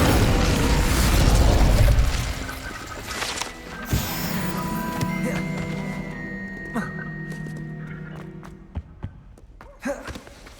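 A fiery spell cast in the video game Hogwarts Legacy opens with a loud, dense whooshing burst. It fades into ringing magical tones and scattered thumps that thin out toward the end.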